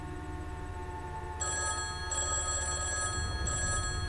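A telephone rings repeatedly in the Five Nights at Freddy's 2 video game, a bright electronic bell pattern in steady bursts over a low background hum.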